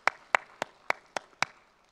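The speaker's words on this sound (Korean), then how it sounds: "호산나 찬양대에게 감사와 격려의 박수를 돌립니다" Six sharp, evenly spaced hand claps ring out one at a time during a Sunday church service after a choir performance, close and distinct with short gaps between them.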